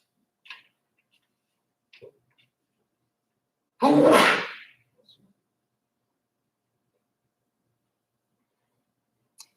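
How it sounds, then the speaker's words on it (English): A single sharp sneeze from someone wearing a face mask bursts out loud and close in an otherwise quiet room, framed by a few faint clicks and small noises before and after. "Sneezing in the mask is the worst thing."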